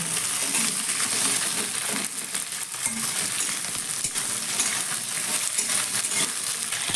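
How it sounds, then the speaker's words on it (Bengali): Okra fried without salt in a pan over a high gas flame gives a continuous crackling sizzle, close and fairly loud, with small clinks and scrapes from stirring throughout. "গ্যাসের ফ্লেমটা আমি কিন্তু হাইতেই রেখে ঢ্যাঁড়সগুলোকে ভেজে নিচ্ছি"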